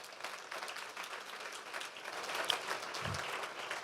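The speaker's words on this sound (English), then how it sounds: "can we give them a round of applause preemptively for all their hard work?" An audience applauds steadily for the founders at a health startup demo day, a dense wash of clapping sustained throughout at moderate volume with no speech.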